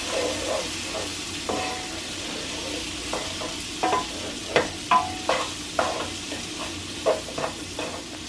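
Onions sizzle steadily in a frying pan while a utensil stirs and scrapes against it in irregular clacks, close up, with no voices.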